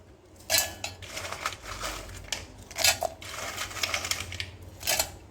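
Oreo biscuits tumble into a mixer jar at home in a series of sharp clattering rattles and knocks, several distinct bursts close by with no talking.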